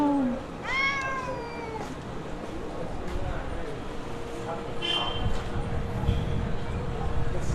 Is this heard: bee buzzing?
no